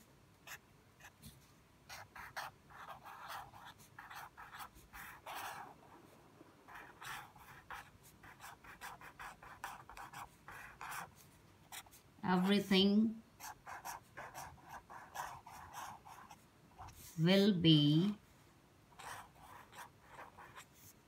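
A sketch pen squeaks and scratches across a poster in short strokes that repeat, close and faint, with two louder squeaky bursts partway through.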